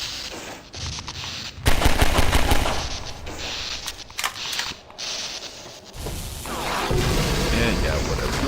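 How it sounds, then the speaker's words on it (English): Headcrab shell bombardment in Half-Life 2, with loud bursts of rapid mechanical fire and heavy booms in uneven clusters, mixed with a speaking voice. "On what grounds are these people shelling us with bombs full of crabs?"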